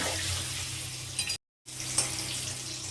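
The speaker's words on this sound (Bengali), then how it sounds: "আলুটাকে আমি একটু ভেজে নেব" Potatoes frying in a pan with a close, steady hiss and crackle that cuts out for a brief moment before resuming.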